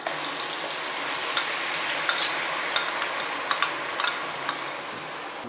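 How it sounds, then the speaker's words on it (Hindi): Ground onion paste sizzles in butter in a kadai, a steady crackling fry with scattered sharp pops and spatters, close and continuous with no talk. "अब इसमें हम पीसा हुआ प्याज डालेंगे।"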